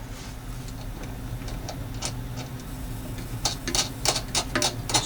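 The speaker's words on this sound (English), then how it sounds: "So the slider will go back and forth" The slider of a .223 gas-check tool being worked back and forth gives light metallic ticks and clicks, sparse at first, then a faster cluster of sharper clacks toward the end over a steady background hum.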